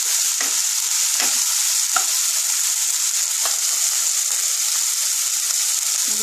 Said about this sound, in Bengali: একটু ভাজতে হবে।